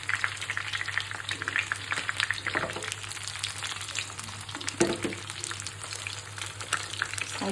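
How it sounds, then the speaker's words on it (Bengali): A large tilapia fries crisp in a pan, a continuous, fairly quiet sizzle with crackling pops and occasional stirring scrapes, heard alone without voices. "এভাবে 2 পিঠ মচমচ করে ভাজবেন"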